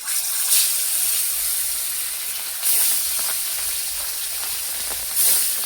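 Pieces of fish dropped one at a time into hot oil in a Bengali home kitchen, giving a steady hissing sizzle that swells into three louder bursts as each piece goes in.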